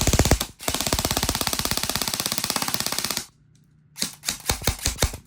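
A red E&C 643 M4 airsoft gun fires on full auto in a rapid, steady, loud burst of shots lasting about three seconds, then a brief pause before a shorter, uneven volley.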